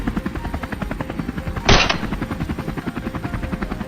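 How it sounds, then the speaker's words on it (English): A helicopter hovers over a cold forest during a wild boar hunt, its rotor thudding in a rapid steady pulse with a brief sharp burst of gunfire partway through. "We quickly maneuvered the helicopter into position"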